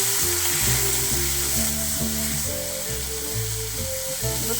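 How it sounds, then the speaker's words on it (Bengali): Onion and chopped vegetables sizzle in a pan with a steady, close frying hiss that lasts throughout, alongside tonal background music. "পেঁয়াজটা একটু হালকা লাল করে ভাজা হতে থাকে।"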